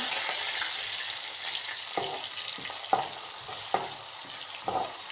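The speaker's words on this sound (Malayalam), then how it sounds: "ഇവ നമ്മൾ ഇതിലേക്ക് ആഡ് ചെയ്യണം ശേഷം ഇത് മൂക്കാൻ വേണ്ടി നമ്മൾ ഇളക്കി കൊടുക്കുക" Green chili, ginger and garlic sizzle steadily in hot oil while a spoon stirs them, with a few sharper scraping clinks against the pan standing out over the constant frying hiss, no voices.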